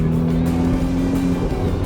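A Ferrari Roma engine drones loud and close under acceleration, holding a steady, throaty tone through a short stretch.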